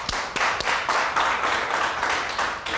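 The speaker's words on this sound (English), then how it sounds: "You can clap your hands." Small group of people clapping hands on a talk show set, a faint steady rhythmic clapping with a few sharper claps, fairly quiet and even throughout.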